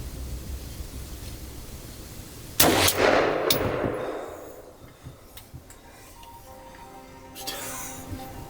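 A single rifle shot while deer hunting in late-season Illinois, one sharp loud crack from close by followed by a long rolling echo that decays across the open ground, with a faint muffled voice afterward.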